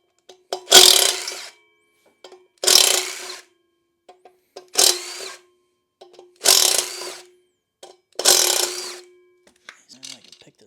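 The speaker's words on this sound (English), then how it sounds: "go ahead and remove all these bolts" Bolts being loosened with a ratchet on a Yamaha RoyalStar 1300 V4 motorcycle, five bursts of rapid clicking each about a second long with short pauses between, close by and crisp, ending in a few lighter ticks.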